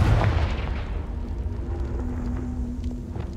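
A Confringo blasting spell from Hogwarts Legacy goes off with a loud, close boom at the start. A low rumbling tail follows and slowly fades over a few seconds. No voices are heard.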